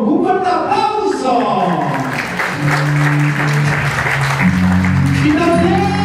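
Guests at a quinceañera celebration clap loudly and steadily throughout, with a voice and sustained musical tones running underneath the applause.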